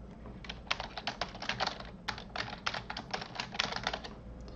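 A password is tapped out on a computer keyboard in quick, irregular bursts of close, crisp keystrokes with short pauses between them.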